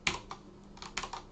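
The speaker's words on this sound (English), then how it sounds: "I just pressed on my keyboard" Keys on a computer keyboard are pressed in a loose, uneven series of about six crisp clicks, close and clear, with no talking over them.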